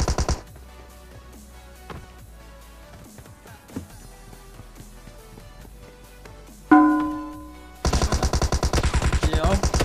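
Gunfire in PUBG Mobile on a snowy map: scattered shots and faint distant reports, then a loud single blast, followed by a fast, steady automatic burst of rapid shots near the end.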